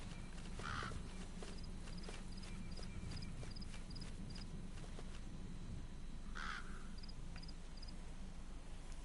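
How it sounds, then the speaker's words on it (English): Crows caw in the video game Metal Gear Solid 5, two distinct caws some seconds apart, moderately near, over a steady ambient bed with faint rhythmic clip-clop steps and chirping insects. "I can hear some movement, but that must be crows or birds or something like that."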